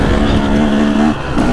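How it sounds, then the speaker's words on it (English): A KTM 150 SX dirt bike engine drones steadily and loudly while being ridden, holding a near-constant pitch with a slight dip toward the end. "I'm on the KTM 150 SX today, and I'm riding this"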